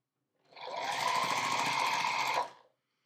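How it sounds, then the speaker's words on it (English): A sewing machine joins the first two scrap-quilt diamond blocks in one steady, close, continuous run of fast mechanical stitching lasting about two seconds, with no voices. "I'm just gonna sew the first 2 together"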